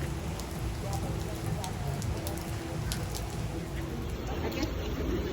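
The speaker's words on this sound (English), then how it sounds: "And Sandy loves the rain" Steady rain falling, a continuous soft hiss with faint scattered drops, no voices.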